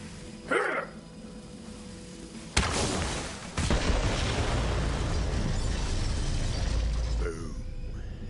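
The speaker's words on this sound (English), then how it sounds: "The explosion echoed through the forest" An explosion in the video game Borderlands 3 (Bounty of Blood) goes off in a forest: a sudden sharp blast followed by several seconds of heavy, sustained rumbling, with a bark-like sound and a voice nearby.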